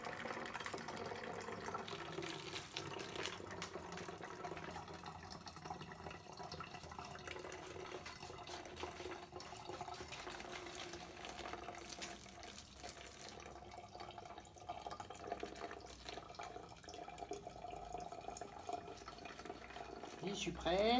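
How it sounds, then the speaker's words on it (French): Water poured steadily into a plastic bottle fitted with a straw, part of a homemade gadget: a soft, continuous trickle and gurgle that lasts throughout and stays faint. "quand je vais mettre de l'eau, alors il va y avoir de l'air qui va sortir par le trou pour que l'eau aille à la place de l'air"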